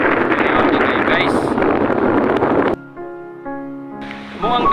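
Sea waves at a crowded beach during a picnic and birthday outing, a loud continuous roar of surf mixed with wind buffeting the microphone, then giving way to quieter voices.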